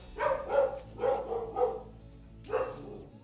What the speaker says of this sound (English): Be quiet, dogs. Silly dogs.